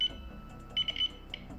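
An RM-9000 radiation monitor's dose rate threshold alarm gives a few short, high electronic beeps in quick bursts, faint and clear over quiet room noise.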